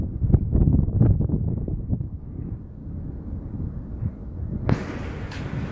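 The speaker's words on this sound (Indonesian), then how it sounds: "Angin kencang." Strong wind buffets the microphone in low, rumbling gusts on the front deck of a cruise ship near sunset, easing off partway through, with a sharp hiss near the end.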